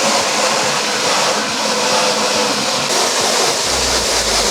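A strong, steady hiss of a water spray washes emulsion out of a screen printing screen, loud and close throughout with a lower rushing tone near the end; no talking.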